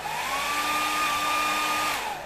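A worn hair dryer runs continuously close by, a loud steady whine that rises in pitch and then dips near the end, with no talk.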